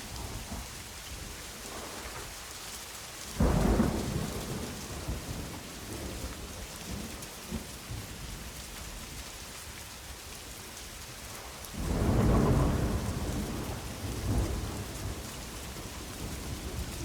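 Steady heavy rain with two loud rolling thunderclaps, the first near the start and the second later, a full storm ambience with no voices.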